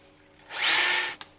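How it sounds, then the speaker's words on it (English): A power drill fitted with a 15mm hole cutter bores an indicator hole. It spins up for about half a second of loud whining, then cuts off sharply with a brief knock. "You can then cut the indicator hole using anything from a 12mm to a 20mm cutter."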